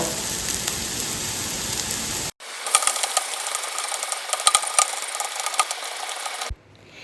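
Onions and green chillies sautéing in a pan for beef cutlet, a loud close crackling sizzle that cuts in and out with scraping stirs.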